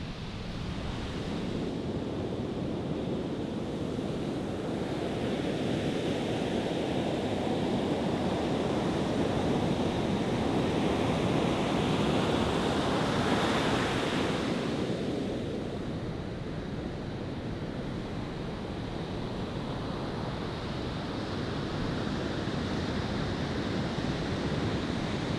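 Ocean waves break and wash continuously onto a Kauai beach, a loud, broad roar that swells and eases over time, mixed with wind buffeting the microphone and no voices.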